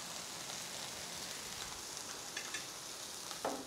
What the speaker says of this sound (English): Look at the sizzle around there.